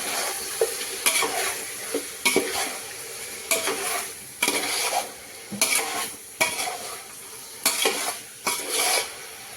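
Chicken cooking for a pulao in a pot, stirred with a spoon in repeated scraping strokes over a steady close sizzle, with regular clanks of utensil against metal and no talking.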